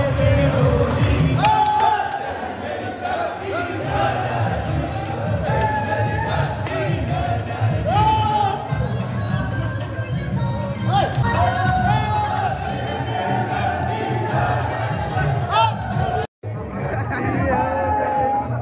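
Large, dense crowd at the Barsana Holi festival, a steady hubbub of many voices chattering and calling out close by, with occasional whoops rising above the babble.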